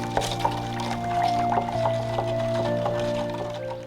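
Liquid poured steadily into an electrolysis tank used for cleaning cast iron skillets, a continuous close splashing and trickling with a few brief knocks.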